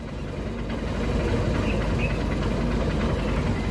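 A Honda Unicorn motorcycle engine idles after an engine flush, a steady low rumble with slight fluctuation in revs, close and continuous with no talk.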